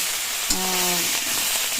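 Fish heads hit hot oil and fry with a sudden hiss that settles into a steady loud sizzle, with a brief voice-like hum under the crackle.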